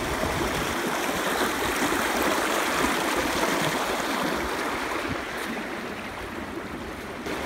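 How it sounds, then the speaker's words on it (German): A flowing brook with a steady, close rush of water that holds a constant broadband wash throughout, with no voices over it. "So ein Bach."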